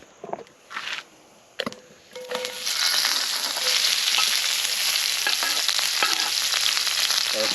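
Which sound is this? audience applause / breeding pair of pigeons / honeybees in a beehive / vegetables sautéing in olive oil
vegetables sautéing in olive oil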